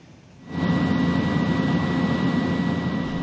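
Inside a Bureau of Fisheries and Aquatic Resources airplane in flight, the engine drone swells in after a quiet start into a loud, steady low roar with a constant whine on top, no talking.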